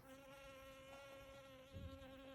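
A bee buzzes steadily inside a greenhouse full of wildflowers, a continuous close hum that holds through the whole stretch with no talking.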